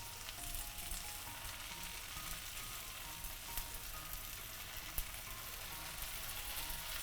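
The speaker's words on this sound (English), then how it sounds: "you need the drizzling, the frying sound, so that you can fry the soy sauce" Steady, crackling sizzle of soy sauce frying in a hot claypot, with a few louder pops and spits over the continuous hiss.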